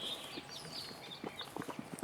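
Goats running excitedly around a farm, their hooves tapping and clattering in quick uneven bursts close by, with faint bird and animal calls in the background.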